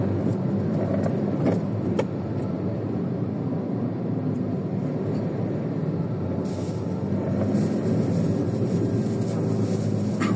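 Heavy road traffic on a drive toward Xentromall in Pulilan: a continuous low rumble of engines and tyres with cars passing close by, steady throughout and punctuated by occasional brief clicks.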